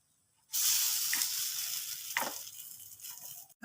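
Mixed dal aape sizzling in a pan as they are flipped, a sudden steady hiss of frying that starts after a quiet moment, with a few soft scraping turns and a brief pause near the end.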